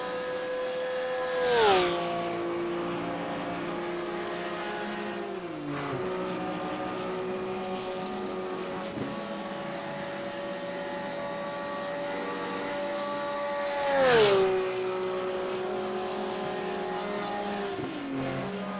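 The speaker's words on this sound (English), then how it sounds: "Lovely little sound there of the Porsche engine down the straight." A Porsche racing engine drones steadily at high revs down the straight, with two loud rising-and-falling passes where the pitch swoops down as a car shoots by.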